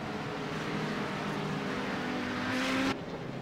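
Race cars in iRacing lap Le Mans toward the Porsche curves, a steady engine drone with a rising whine that swells near the end, then cuts off abruptly, heard at a moderate distance.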